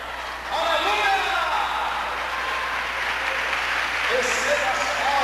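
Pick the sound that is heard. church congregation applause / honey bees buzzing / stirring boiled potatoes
church congregation applause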